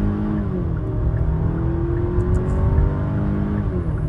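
The 2.5-litre turbo engine of a second-generation Hyundai Palisade revs at high rpm as the car accelerates, giving a loud, strained drone that climbs steadily in pitch while sounding from inside the cabin.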